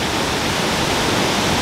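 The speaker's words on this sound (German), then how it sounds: "Hinter mir stürzt der Kunene River in die Tiefe." Kunene River plunging down at Epupa Falls in Namibia, a loud, dense and steady roar of falling water filling the whole moment.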